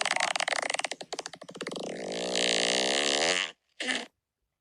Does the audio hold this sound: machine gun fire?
no